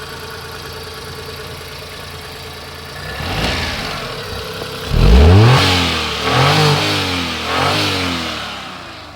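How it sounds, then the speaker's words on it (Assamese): A small Hyundai Eon D-Lite+ car engine cranks and catches, then revs up in several rising surges before settling, loud and close. "গাড়ী কি ধুনীয়াকৈ ষ্টাৰ্ট লৈছে"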